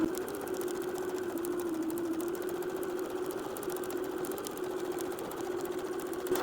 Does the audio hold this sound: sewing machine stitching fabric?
yes